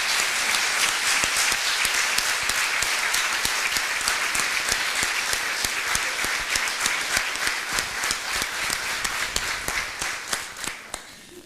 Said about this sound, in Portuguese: queria pedir-vos uma salva de palmas e de acolhimento aos nossos colegas de Espanha